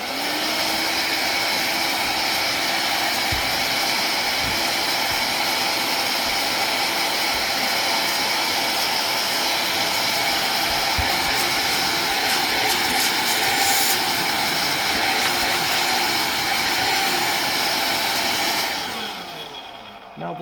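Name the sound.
Hoover Air cordless vacuum cleaner suction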